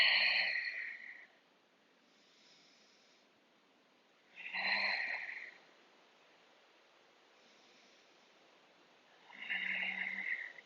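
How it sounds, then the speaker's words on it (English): Slow, deep yoga breaths: three long, airy inhale-exhale swells spaced several seconds apart, close and fairly soft, with quiet pauses between them and no talking. "We'll take 5 deep breaths here."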